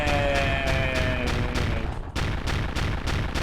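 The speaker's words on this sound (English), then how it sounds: "Explosions!" Rapid repeated explosion effects in the video game I Wanna Classic, a dense regular train of booming bursts over busy game music, loud throughout.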